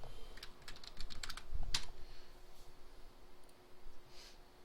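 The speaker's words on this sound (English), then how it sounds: "I can type some text in the legend." Typing on a computer keyboard while adding legend text to a map, a quick run of light key clicks followed by sparser, softer taps, close and alone without talk.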